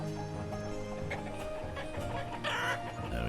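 Chickens clucking in the video game Banished, a busy layered din of clucks and calls over a continuous background bed, fairly loud throughout.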